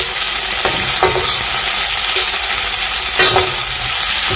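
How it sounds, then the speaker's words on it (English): Pepper and green onion stirred in a hot pan, a steady broadband sizzle with a few scraping strokes of the spatula at irregular intervals, close and loud with no talking. "I'm now going to go in with my pepper. Then I'll mix it up."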